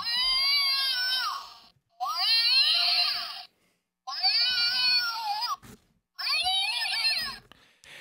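A dollar-store toy plays a recorded cat meowing: four long, drawn-out, tinny meows with short silent gaps between them, loud and clear with nothing else present.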